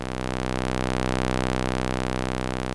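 A synthesizer VCO puts out a steady square wave, a buzzy, hollow tone held at one constant pitch and level with no other sound around it.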